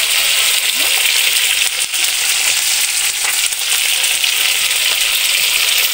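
Close, continuous sizzling and crackling of local Nepali fish frying in hot oil in a pan, with a few faint clinks in the otherwise unbroken hiss and no voices.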